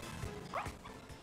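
A little puppy in Pokémon Scarlet & Violet gives a couple of brief, faint yips over quiet game background sound.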